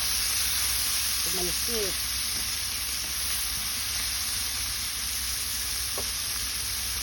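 Garlic fries in a hot pan for a Bicol Express dish, giving a steady broadband sizzle that runs throughout, with a few brief clinks and a short spoken word near the start.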